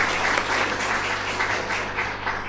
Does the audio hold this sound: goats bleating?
no